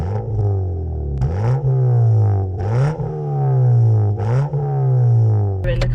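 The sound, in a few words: Ford Fiesta Zetec S new loud exhaust, drive-by revving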